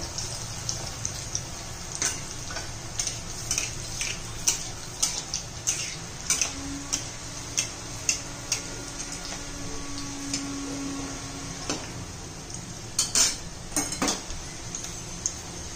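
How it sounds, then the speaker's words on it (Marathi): Soybean koftas deep-frying in hot oil until golden brown, a steady bubbling hiss with scattered light clinks and taps of utensils throughout, fairly close and moderately loud. "सगळे तांबूस रंगावर येईपर्यंत खरपूस असे तळून घ्यायचे।"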